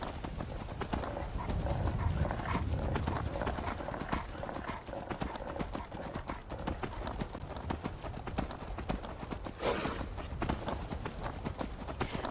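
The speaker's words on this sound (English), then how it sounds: "There's such a freedom she feels, though, being on her own, with a horse, traveling in the wilds." Steady rhythmic clip-clop of horse hooves trotting continuously in the video game Skyrim, close and even-paced, with no talking.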